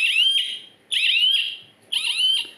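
A 4G GPS vehicle tracker's siren, set off by shaking the device, beeps shrilly three times in a steady pattern, each tone sweeping slightly upward, loud and close with short gaps between.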